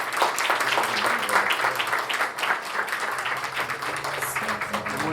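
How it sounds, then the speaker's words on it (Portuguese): An audience applauds Luiz Oswaldo, dense sustained clapping from many hands filling the room at steady loudness, with faint voices mixed in. "Nossos aplausos ao Luiz Oswaldo."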